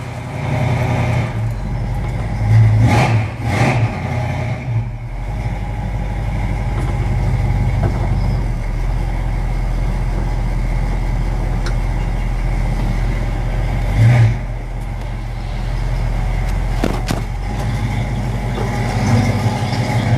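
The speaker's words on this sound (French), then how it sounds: "t'as vu ce démarrage à froid absolument exceptionnel?" A car engine idles steadily after a cold start, a loud low rumble close by, broken by a couple of brief revs early on and again near the middle.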